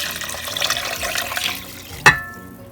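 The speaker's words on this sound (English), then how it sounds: "I'm adding 2 cups more water" Water pours steadily into a cooking pot for turnip greens, a close splashing rush that ends with a brief metallic clank.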